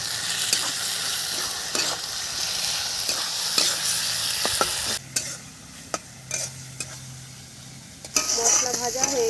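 Spices fried with onion, chopped tomato, salt, turmeric, chilli powder, ginger, coriander, cumin and garlic paste in a pan with very little oil for a rohu fish curry, a steady close sizzle broken by repeated spoon scrapes and stirring knocks.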